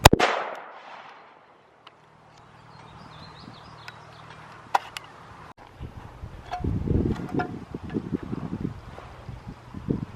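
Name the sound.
gunshot fired at body armor plate during test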